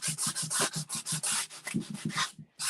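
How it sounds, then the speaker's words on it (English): Rhythmic, brisk rubbing strokes of a sanding sponge on a wooden table, close up and even-paced, about a dozen back-and-forth passes before stopping. "A sanding sponge gives you more control as it is a little softer."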